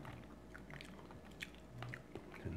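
Close, wet chewing and biting on a fatty piece of meat from a Caribbean feast, with a few soft crunchy bites spaced across the moment.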